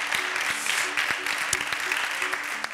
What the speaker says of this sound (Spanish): Vamos a darles un aplauso, ¿eh?